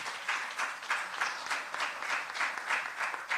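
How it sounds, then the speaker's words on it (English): An audience applauds a newly named private sector association president in Jamaica, a steady, moderately loud patter of many clapping hands that continues throughout. "our Mr. Keith Duncan has to say, and you want to applaud him because he is now the president of the PSOJ."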